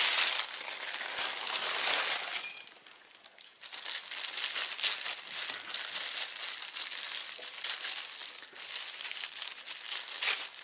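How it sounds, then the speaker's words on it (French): Tissue paper crinkles and tears as mail is unwrapped, a close rustling that runs continuously with a brief lull, then resumes as steady crackling handling. "Ah, même le papier de soie, j'aime pas le déchirer,"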